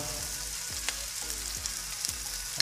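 Hotdogs fry in a pan of Kapampangan-style menudo, a soft steady sizzle with a few faint stirring clicks and a low background hum.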